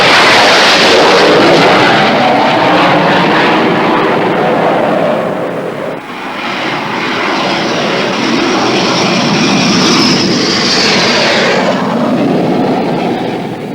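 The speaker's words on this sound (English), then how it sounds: "The English Electric Lightning is an all-weather day and night aircraft, designed primarily for high-level supersonic interception." An English Electric Lightning supersonic interceptor jet sends out a loud, sustained engine roar, a broad, rushing blast that holds steady with a slight dip midway, heard alone without talk.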